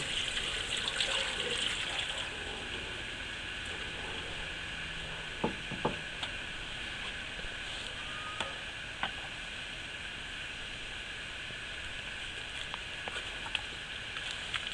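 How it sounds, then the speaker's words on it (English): Steady water runs and splashes continuously into a pan, six cups poured, with a few soft clinks partway through and no talking. "I'm going to put 6 cups of water in this pan"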